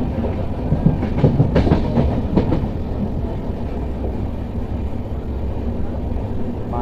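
A train rumbles along steadily on rails arriving at Ghataprabha railway station, with a brief burst of rattling and clatter early on before settling into a continuous low roar.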